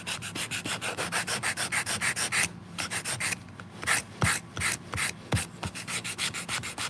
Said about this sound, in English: This is where everything comes together, is the sort of final sanding and fitting.